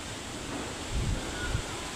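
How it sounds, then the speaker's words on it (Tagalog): Strong wind from Typhoon Uwan roars as a steady, broad rush, with heavier low buffeting gusts against the microphone near the middle and again a little later. "Medyo malakas na po ang hangin."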